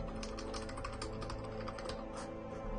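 Rapid keystrokes patter on a computer keyboard in a continuous, close-up stream of typing over a low background hum, with no talking.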